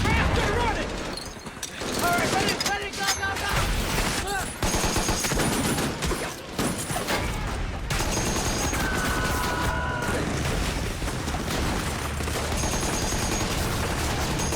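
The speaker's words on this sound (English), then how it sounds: "God, there's just so much gunfire." Dense, loud bursts of gunfire crackle and boom continuously in a war film, rapid automatic shots layered with explosions in a chaotic battle scene.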